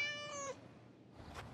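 A domestic cat gives one clear, drawn-out meow close by, followed by quiet room sound and a brief soft rustle.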